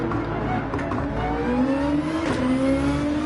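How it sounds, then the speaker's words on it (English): Race car engine braking in the Gran Turismo 7 racing game, a downshifting engine whining and falling in pitch before rising again, continuous and close with other cars faintly audible nearby. "Engine braking to slow down the car more."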